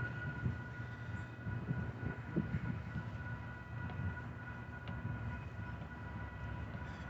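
BNSF southbound local freight train led by two locomotives rumbling past a level crossing with lowered gates, a steady close rolling roar of wheels and cars with no talk.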